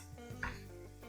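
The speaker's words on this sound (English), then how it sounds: "just use a flipper to just mix it around" Ground meat stirred in a pan with a metal flipper: a couple of brief, soft scrapes and clinks against the pan over a faint sizzle, quiet and close.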